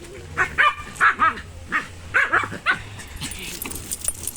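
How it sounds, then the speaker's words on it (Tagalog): A small dog barks repeatedly in quick, sharp yaps close by, with a few whimpers and short pauses between bursts. "Ang ingay niya talaga besh pag may aso"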